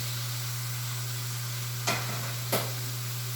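Steak frying in a pan, a steady close sizzle over a constant low hum, broken by two sharp brief scrapes or taps near the end.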